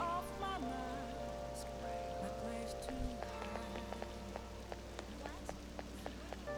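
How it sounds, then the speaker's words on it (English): Steady rain falls in the video game Persona 5 Royal, a soft continuous patter that runs throughout beneath game music and occasional interface sounds. "Oh, this rain is so annoying."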